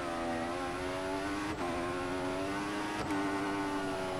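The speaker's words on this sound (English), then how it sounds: "I'm using a little bit of engine braking where I probably could do with not" A Formula One car in F1 2014 engine-brakes at the Malaysia circuit. The steady high-pitched engine whine holds a constant droning tone, broken by two brief gear-shift blips, and it stays close and loud throughout with no voices.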